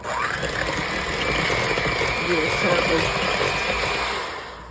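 An electric mixer whirs through cake batter made with Greek yogurt for chocolate Texas sheet cake cupcakes, a steady close motor whine holding for several seconds before easing off at the end.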